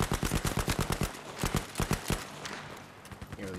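Rapid bursts of submachine gun fire from an MP40 or STEN in Battlefield 5 multiplayer, sharp close shots in fast rhythmic volleys that thin out into a few scattered shots near the end.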